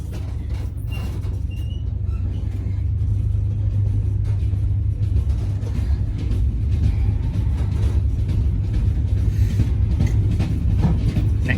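Steady, loud rumble of a passenger train pulling out of Pilning station, continuous low roar building slightly as it gets under way, heard from on board with no talking.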